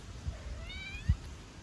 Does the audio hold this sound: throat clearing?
no